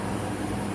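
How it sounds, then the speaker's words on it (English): Home air conditioner running steadily just after kicking on, a constant broadband whir and hum that stays even and fairly close throughout, with no voices over it. "I do like my air conditioner just kicked on."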